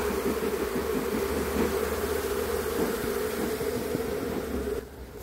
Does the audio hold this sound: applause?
no